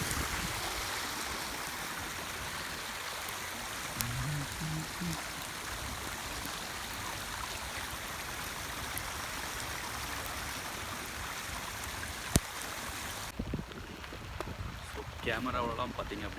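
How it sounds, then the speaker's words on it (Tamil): Water from an overflowing pond runs off as a small stream outdoors in a snowy winter setting, heard as a steady, faint broadband rush with wind noise and occasional soft voices. "அந்த குளம் வந்து ஓவர் ஃப்ளட் ஆகும்போது அது அப்படியே தண்ணிலாம் வந்து வடிஞ்சு ஒரு ஓடை மாதிரி வந்து அப்படியே வேற ஒரு இடத்துக்கு போகுது"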